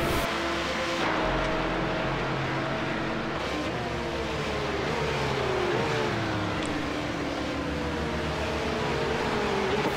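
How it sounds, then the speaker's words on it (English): Porsche Cup cars with flat-six engines racing at Daytona, a continuous loud engine roar with rising and falling pitch as cars accelerate and shift, several engines layered together at a steady level. "These flat six engines make one heck of a noise"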